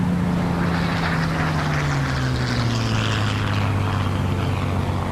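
A Spitfire's piston engine and propeller drone steadily in flight, a loud continuous roar whose pitch sinks slowly as the aircraft passes, with broad wind and airframe noise over it.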